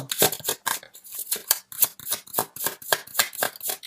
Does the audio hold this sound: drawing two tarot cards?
yes